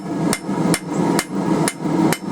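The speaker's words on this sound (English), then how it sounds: "Just going to planish it up a bit before the next heat." A hammer planishes a hot forged steel chisel with five evenly spaced metallic strikes, close and sharp, over a steady low background hum.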